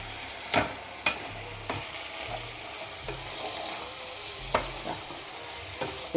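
Soya chunks tossed with dark soy and other sauces plus sugar in a hot pan for street-style chilli soya: a soft continuous sizzle with several sharp spatula scrapes at uneven intervals, no voices.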